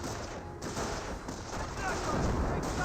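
Scattered small-arms and sniper fire from a Company of Heroes battle between US forces and Panzer Elite, crackling as a dense, steady wash of distant shots and rumble with no clear single report.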